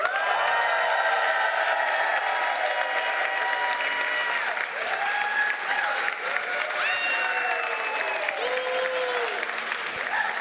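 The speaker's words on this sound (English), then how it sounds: "ask them to applaud for camera 2" A large audience at an award show in Berlin claps steadily for ten seconds, with scattered whistles and cheers rising through the dense, continuous applause.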